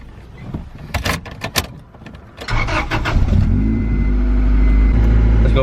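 An Acura Integra LS cranks and starts after a few door and handling clunks, then settles into a loud, steady idle rumble close by.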